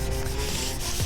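Steady, close scratchy rubbing of sandpaper lightly sanding chalk-painted wooden furniture, continuous and even, with no talking.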